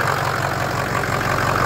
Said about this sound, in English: Stock exhaust on the truck with an EGR delete.